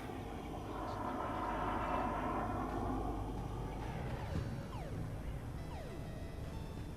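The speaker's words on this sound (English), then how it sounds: "Hear that jet fly overhead?" A jet roars past overhead in a video game, a broad steady rumble that swells and then holds, with other faint game sounds layered over it.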